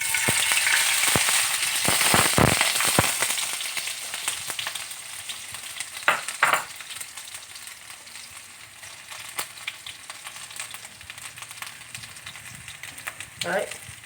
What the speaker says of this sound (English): we must remember to stir this mixture. Don't forget to stir.